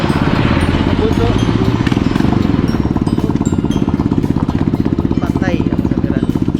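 A motorcycle engine rumbles steadily through its exhaust at a family birthday gathering in Davao, a loud, continuous low throb with a rapid pulsing rhythm that lasts throughout.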